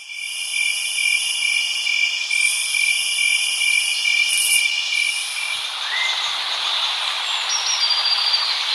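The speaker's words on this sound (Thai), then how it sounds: "อันนี้ก็เสียงป่าในยามค่ำคืนนะครับก็จะมีเสียงพวกจิ้งหรีดนี่แหละครับ" Steady, shrill cricket chirring in a night forest from a phone sound app, continuous and fairly loud, layered high tones with no voices.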